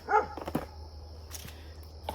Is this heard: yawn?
no